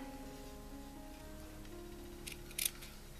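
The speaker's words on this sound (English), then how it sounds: "I'm just going to take this green felted wool and cut out a leaf shape." Scissors snip through green felted wool being cut into a leaf shape, giving a couple of brief, crisp cuts near the end of an otherwise quiet stretch with faint background hum.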